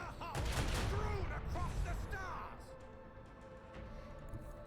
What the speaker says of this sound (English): And we'll fire our dorsal cannons at them.